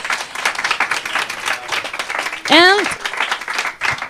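Audience applause at a network's closing conference: a steady, dense wash of clapping from many hands fills the room, with a single voice cutting in briefly partway through.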